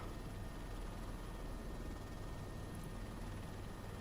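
Helicopter rotor spinning up in a flight simulator game, a steady, fairly quiet low whir and drone that holds level and unbroken throughout.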